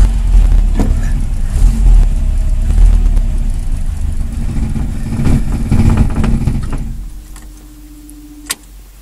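A 1977 Chevy Luv with a carburetor needing a rebuild runs with a loud, rough, low engine rumble up close, then fades and dies near the end, leaving quiet with a single sharp click.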